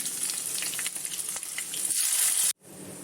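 Fenugreek and mustard seeds crackle and spit in hot oil with a busy, close sizzle full of tiny pops, cutting off abruptly to near silence before faintly resuming.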